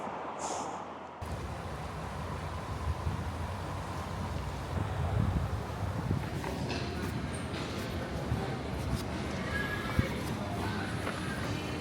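Steady wind rumbles against the microphone throughout, a constant low roar with occasional stronger gusts and faint background noise, on Rottnest Island or around Perth, Western Australia.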